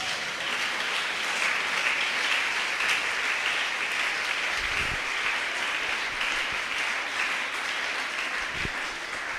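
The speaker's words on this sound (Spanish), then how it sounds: "Dale otro aplauso al Señor." A church congregation applauds in a steady, dense wash of clapping that runs unbroken for the whole stretch, with a couple of low thumps underneath.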